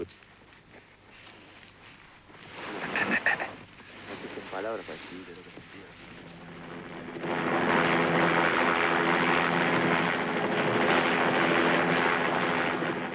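A helicopter flies over the Andes mountains, its rotor and engine building into a loud, steady roar that dominates the second half, with voices talking under it.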